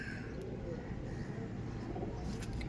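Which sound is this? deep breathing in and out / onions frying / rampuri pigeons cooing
rampuri pigeons cooing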